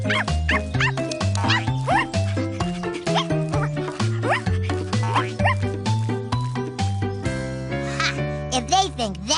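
A cartoon dog barking in an animated children's show, a series of short, bright yips and barks in quick rhythm, loud and close, mixed with the show's tonal soundtrack.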